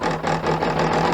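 Embroidery machine stitching fabric held in the hoop, a steady close mechanical whir with a rapid, even stitching pulse through the short moment, no voices over it.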